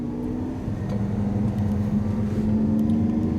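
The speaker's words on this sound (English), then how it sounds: "this is the Lamborghini Aventador against the Ferrari F12. And it's a rolling start from 50 kilometers per hour." Lamborghini Aventador and Ferrari F12 accelerating hard from a 50 km/h rolling start, a steady loud engine drone with a low tone rising slightly, no talk over it.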